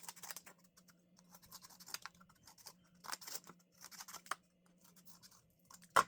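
Scissors snip and scrape through an Amazon box's cardboard, cutting out a circle in short irregular bursts of crisp cutting, close and fairly quiet, with pauses between strokes and a sharp click at the end.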